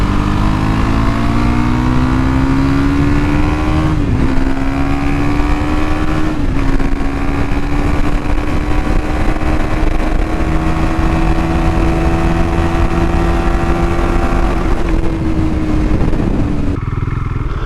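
A KTM Duke 390 motorcycle fitted with a 56-tooth rear sprocket on a top speed run: a loud, close, high-revving engine drone that climbs steadily and dips briefly at each gear shift, with heavy wind rush throughout.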